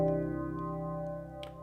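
Bell patch on a Korg opsix mkII FM synthesizer, a held metallic tone with shimmering overtones and a couple of soft new strikes, fairly quiet and alone.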